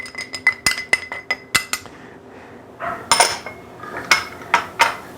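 A spoon stirs a chickpea flour binder mixture in a bowl for vegan cabbage rolls, making a quick run of sharp clinks, a short pause, then more uneven clinks and scrapes close by.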